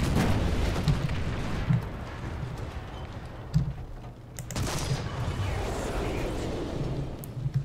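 Gunfire in War Thunder ground battles strikes a Hetzer tank destroyer, heard as scattered dull thuds and sharp impacts against a rumbling engine bed, with a louder burst of hits partway through.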